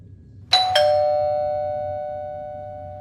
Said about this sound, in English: The doorbell, guys, that's like really fast